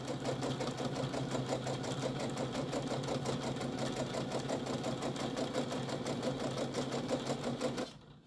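A sewing machine runs steadily while stitching across the bottom of a tote bag, a continuous rapid whirring hum that holds for nearly eight seconds before stopping abruptly.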